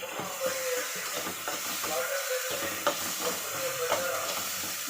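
Tempering for chitranna sizzles in a pan after turmeric powder goes in, a steady close hiss dotted with small crackles and spoon scrapes.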